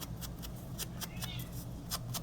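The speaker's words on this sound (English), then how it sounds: "Oh, my cats are playing." Cats playing somewhere in a room, giving several short, faint meows over a constant low background hum.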